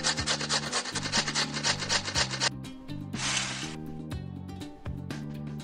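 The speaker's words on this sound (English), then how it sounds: "We need to grate this." Food is grated in the Masha and the Bear pizzeria cooking game, a quick run of rhythmic rasping strokes over a looping cartoon music bed, followed by a brief swooshing effect.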